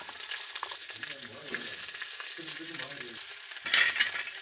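Onions sizzling and frying in a hot pan, a steady crackle with occasional stirring, close and moderately loud, with no one speaking.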